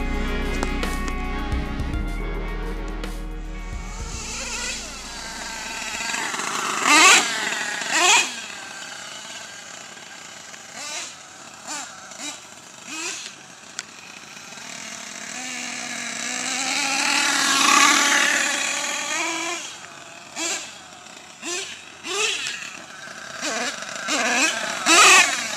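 An HPI Savage X nitro RC truck engine running while driving, with a high buzzing whine that rises and falls as the throttle opens and backs off, passing nearer and farther.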